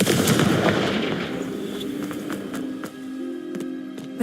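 A Confringo spell blast in a Harry Potter video game sounds as a loud rumbling explosion that fades into crackling debris and scattered sharp pops.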